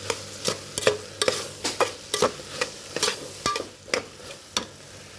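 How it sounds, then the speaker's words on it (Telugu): Close, rhythmic scraping and stirring sounds from pav bhaji vegetables with turmeric and salt cooking in butter in a pan, each stroke a distinct scrape over a faint sizzle, with no speech. "మొత్తం కలుపుకోవాలి ఫ్రెండ్స్."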